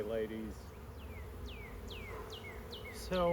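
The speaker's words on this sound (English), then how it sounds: "so should be bees" A honeybee swarm buzzing around a beekeeper, a continuous dense hum with individual bees whining past in repeated falling swoops, close by, while someone speaks briefly at the start and end.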